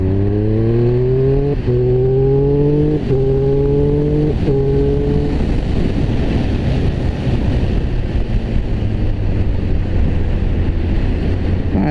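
A Triumph Speed Triple 1200RR motorcycle on the highway, its engine loud and close, revving upward through several gear changes before settling into a steady cruising roar buffeted by wind.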